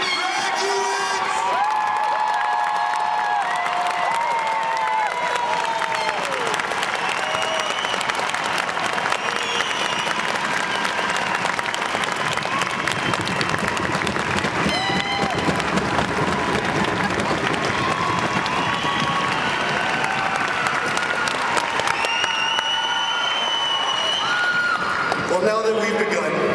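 Commencement crowd at the 2006 UAA graduation applauding and cheering for the graduates, a dense sustained roar of clapping with whoops and shouts, loud and continuous throughout before easing off near the end.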